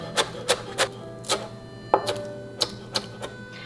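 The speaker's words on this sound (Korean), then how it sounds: "쪽파는 그냥 송송송송 이렇게 썰어 주시면 됩니다." A knife slicing green onions (chives) on a cutting board, about a dozen crisp, evenly spaced chops in a quick rhythm, close and clear with no talking.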